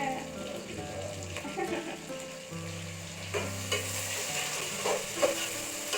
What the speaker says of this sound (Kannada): ಫ್ರೈ ಮಾಡ್ತಾ ಇದ್ದಾನೆ